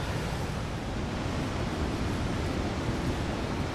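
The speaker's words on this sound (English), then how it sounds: "That sea's quite rough today" Rough, choppy sea waves break on a beach at Guardamar, Spain, a dense, steady wash of surf and wind noise with no voices.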